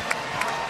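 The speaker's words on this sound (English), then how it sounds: "Applauding for both teams." A basketball arena crowd at the Syracuse vs Connecticut Big East Tournament quarterfinal claps and cheers for both teams after a six-overtime game, producing a brief, loud, dense wash of applause and crowd noise.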